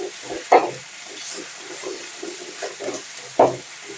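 Masala for chicken gravy sizzles gently in a pan, with soft frying hiss and a few sharp spatula scrapes and stirring knocks spaced a few seconds apart, no talking.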